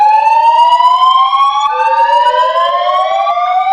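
Synthetic alarm sirens wail in a dramatic movie scene, several overlapping tones sweeping up in pitch together, loud and continuous, with no voices over them.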